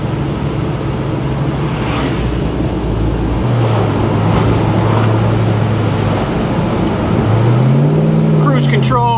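Idling and low revving of a 525 hp LS3 V8 in a 1971 Pontiac GTO, running Hooker cast manifolds and 2.5-inch exhaust with an H-pipe into MagnaFlow mufflers, a steady low rumble throughout with speech over it and a brief rev near the end.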